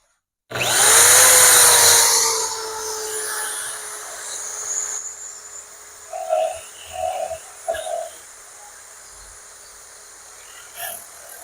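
A homemade bench sander driven by a power drill whirs up loudly with a high rising whine, runs steadily, then a few short grinding bursts as small wood pieces are pressed against it.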